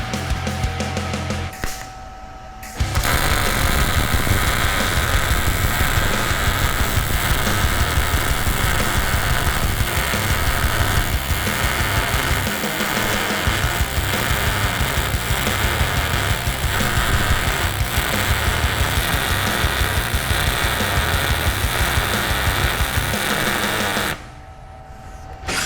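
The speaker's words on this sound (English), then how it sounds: "So here is the MIG weld from the titanium." A titanium MIG welder lays a bead in one continuous, loud, crackling hiss lasting over twenty seconds. It starts and stops abruptly, with no talking over it.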